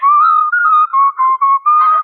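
Someone whistles a brief tune close by, a few sustained clear tones broken by short pauses, ending with a slightly breathy note.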